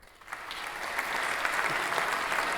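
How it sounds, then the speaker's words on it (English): A short burst of applause from a few people rises quickly and holds as steady, close clapping to the end. "Round of applause for me and you."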